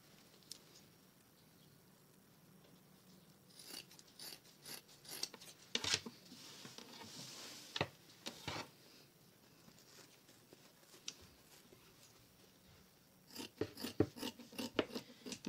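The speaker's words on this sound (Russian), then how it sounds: "Теперь мне нужно подрезать бортовик, вот этот дублерин, чтобы у меня было место на шов." Scissors snip and rasp through fusible interfacing on a sewn cap, with scattered cutting bursts in clusters and a quieter stretch between them, close and fairly soft with no talking.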